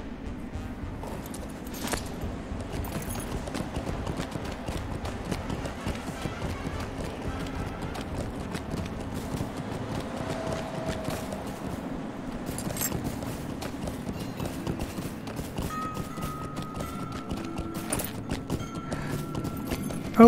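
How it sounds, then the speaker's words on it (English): Horse hooves gallop steadily in the video game LOTRO, a continuous clip-clop rhythm running throughout at moderate level, with occasional game chimes and tones layered on top. "Okay, I'm just going to get on our horse and book."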